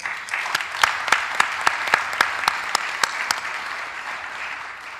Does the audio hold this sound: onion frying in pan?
no